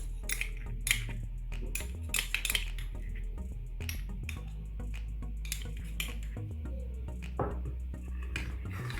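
A spoon scrapes and clinks against a bowl as olive oil, fresh garlic, mustard and honey are whisked into a salad dressing, in quick irregular metallic taps and stirs with no talking.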